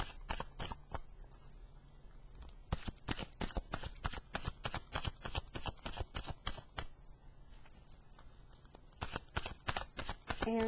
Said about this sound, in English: maybe I will shuffle the cards a little bit more